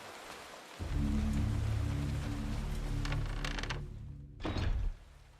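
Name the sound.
rain in the Eternal Darkness video game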